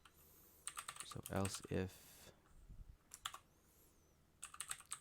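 Code being typed on a computer keyboard: quick runs of clicking keystrokes in short bursts, close and fairly quiet, with a person talking between the runs.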